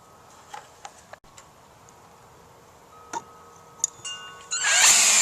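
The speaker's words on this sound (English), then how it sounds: "Now I'm just going to use the cordless drill to get the screws close to fully fastened." A cordless drill drives screws into a security camera mounting plate on a brick wall. Scattered light clicks and ticks lead into a short, loud whir of the drill at the very end.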